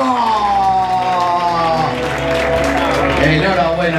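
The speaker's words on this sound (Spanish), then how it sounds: "¡Fuerte el aplauso!" Applause and crowd noise at an awards ceremony for a long-distance race, a sustained clapping wash under a loud amplified voice, with a siren-like tone sweeping through the start.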